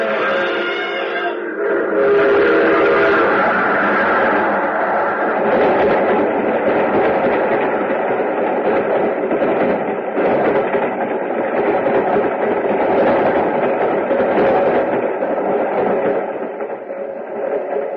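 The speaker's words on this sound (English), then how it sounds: "There's a train coming." A train passing as a radio drama sound effect: a steady, loud mechanical rumble and clatter of rail wagons that sustains close by for the whole stretch, with no talk over it.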